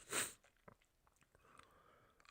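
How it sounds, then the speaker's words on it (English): A single sharp sneeze bursts out at the start, fairly loud against a quiet room, then only faint rustling remains. "That sneeze snuck up on me."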